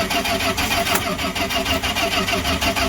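A 1970s Dodge street machine van with a Jegs carburetor cranks, the starter churning in a fast, even rhythm close by, running steady and loud without catching.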